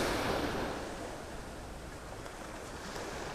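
Ocean waves wash onto an early-morning beach with fairly calm water, a continuous broadband surf hiss that swells at the start and then settles to a steady, moderately close wash.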